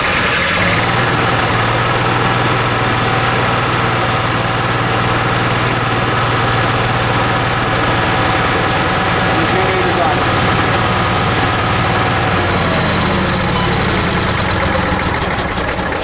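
An RV's onboard generator engine runs steadily at a low idle, a loud continuous hum with a constant mechanical drone that holds unchanged throughout, with no talk over it.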